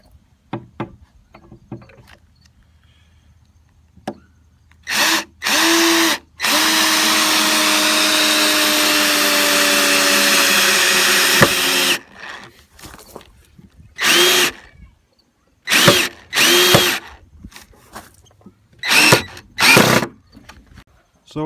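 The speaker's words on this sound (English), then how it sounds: "I'm going to pre-drill the holes through the transom, and then we'll zip them into the keelsons." Power drill boring holes through a wooden boat transom during a Duck Barge build, heard as several short bursts followed by one long steady whirring run, then more brief bursts; close and loud against quiet pauses.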